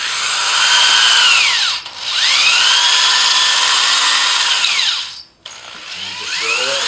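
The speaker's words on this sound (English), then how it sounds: "you have to use a 1/2 inch masonry bit, which we have right here" A power drill fitted with a 1/2 inch masonry bit bores holes for a Federal Brace Sutherland bench bracket. It gives a loud, steady whine that rises and falls in pitch and stops briefly twice.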